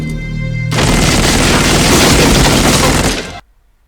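Gunfire in the action movie Kuffs comes as a loud, dense burst of shots and crashing impacts that lasts almost three seconds and then cuts off abruptly, with no talk.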